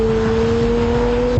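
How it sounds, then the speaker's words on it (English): A Ford Focus RS 500 or Porsche Boxster driven hard on a steep downhill: the engine holds a steady, loud tone with a sustained hum throughout, heard from inside the car with no talk. "Hear the revs flare there."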